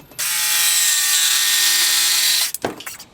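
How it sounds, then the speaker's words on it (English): A wood router cuts a channel in wood guided by a jig, giving a loud, steady high-pitched whine that runs for over two seconds before spinning down with a few clattering knocks. "this is what I meant to make this channel here with the router"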